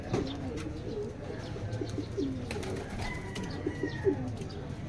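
Racing pigeons coo in repeated soft, low throaty phrases at a training release, with light chirps and faint outdoor background noise around them.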